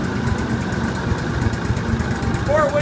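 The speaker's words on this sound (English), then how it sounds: "to keep this thing running, you had to have that choke closed" The engine of an Argo amphibious ATV runs with its choke closed, a steady mid-pitched idle rumble heard close up, with a brief squeak near the end.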